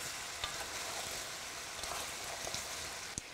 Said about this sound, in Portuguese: Vou deixar o alho aqui fritando, liberando aroma por 1 minutinho.